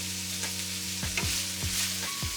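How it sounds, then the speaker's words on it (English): Green peppers fry with beef in a hot pan, a steady close sizzle broken by a few short stirring scrapes. "Then I add in some green peppers."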